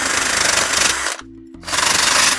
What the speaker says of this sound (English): it's a wire brush on a drill stem